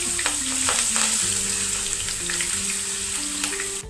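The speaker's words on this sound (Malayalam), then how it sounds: "അതിലേക്ക് 1 ടീസ്പൂൺ ഇഞ്ചി വെളുത്തുള്ളി പേസ്റ്റ് ഇട്ട് കൊടുത്തിട്ട് നന്നായിട്ട് ഇളക്കി കൊടുക്കുക" Ginger garlic paste fries in hot oil with a steady bright sizzle while a spoon stirs it, scraping and clinking against the pan at irregular moments throughout.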